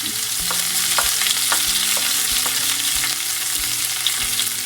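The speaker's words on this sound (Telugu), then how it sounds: "జీలకర్ర ఫ్రై అవుతున్నప్పుడు చాప్ చేసుకున్న పచ్చిమిరపకాయలు దెన్ ఇది పుదీనా" Cumin, chopped green chillies and mint fry in hot oil with a steady close sizzle, broken by repeated scraping and clinking as a spoon stirs the pan.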